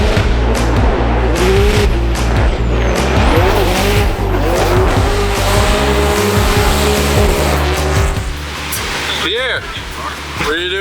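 Formula Drift Pro Championship round 6 at Evergreen Speedway: loud, close engines roar and rev as drift cars slide, with sustained tire squeal and skidding throughout, joined late by brief voices.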